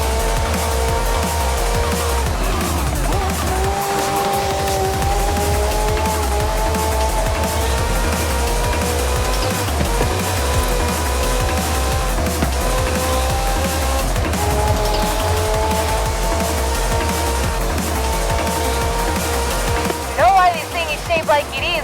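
A Ferrari F40 in the Forza Horizon 5 racing game roars with a steady, loud engine drone and stepped gear pulses, tires squealing near the end.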